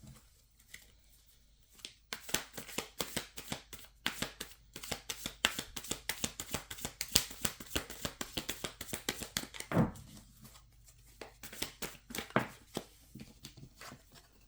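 Tarot cards being shuffled by hand, a long run of quick, close, papery riffles and taps in uneven bursts, fairly soft, with a short pause partway through before the shuffling resumes.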